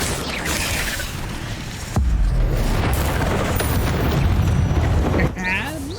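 A fire spell cast in Hogwarts Legacy, heard as a sudden loud boom followed by a sustained roaring burst. It plays over game sound effects, with a voice speaking nearby.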